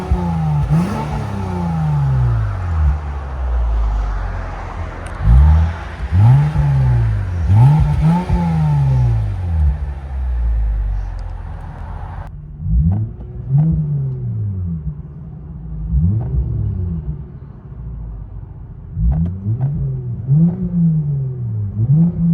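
A Lexus IS 350 with a 3.5L V6 and Valvetronic valved exhaust, valves closed, recorded outside as a string of revs that rise and fall again and again, throaty but fairly subdued, quieter in the second half.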